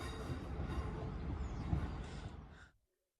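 Northern-operated former West Midlands Railway Class 323 electric train running nearby, a steady loud rumble of wheels and motors that cuts off abruptly near the end.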